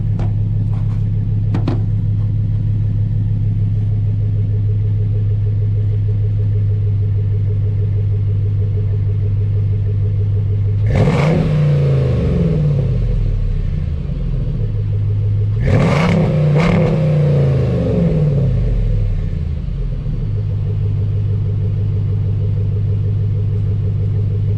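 Hemi Ram 1500 pickup with a Jegs exhaust and Jones Full Boar muffler, a loud deep idle rumble close by, broken by two sharp throttle revs that roar and fall back.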